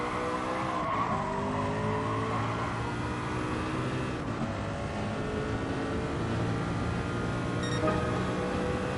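Race car braking and downshifting in Gran Turismo Sport, engine drone with tire squeal and shifting pitch, loud and continuous for the whole stretch with no talk.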